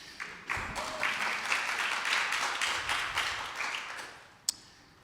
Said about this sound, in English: Some applause.